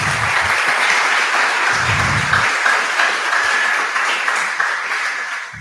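An audience claps in a dense, continuous wash of applause that holds steady from start to finish.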